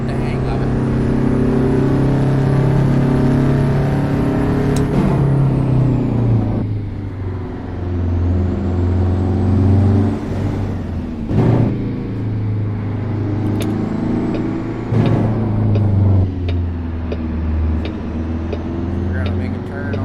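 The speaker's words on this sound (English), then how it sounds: "so I can really get this truck up to speed and show you really how to go through the gearbox" A truck engine in American Truck Simulator pulls up to highway speed through the gearbox, droning low and steady with pitch climbing in each gear and dropping at every shift, heard repeatedly across the stretch.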